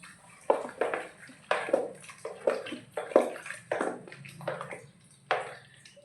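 Freshly churned butter is pressed and washed by hand in water to rinse out buttermilk, giving a series of close, wet sloshing splashes in irregular bursts, with quiet gaps between them.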